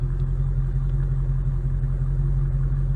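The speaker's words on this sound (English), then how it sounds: "Go ahead and get a close-up of that exhaust. That lovely V8 rumble there." A 2022 Dodge Challenger Scat Pack with the 392 V8 idles behind the exhaust, giving off a steady, deep, loud rumble that holds even throughout without revving and with no voices over it.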